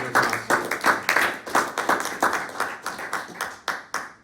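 A small audience claps for the evening's readers at a literary reading event, individual hand claps distinct and fairly close, an uneven rhythm of bursts that thins out toward the end.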